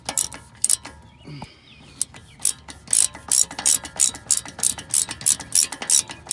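A ratchet loosens a brake caliper bolt on a 2007 BMW 328xi (E90) during a brake job, giving close, loud rhythmic clicking strokes that speed up into a steady run of ratcheting.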